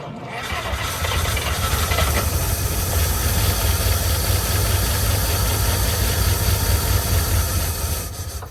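A 1952 Cadillac engine, long left sitting in a field and running on starting fluid with no fuel line, idles roughly and loudly with a steady hissing, knocking rumble throughout.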